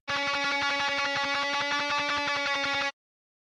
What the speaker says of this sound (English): lead guitar,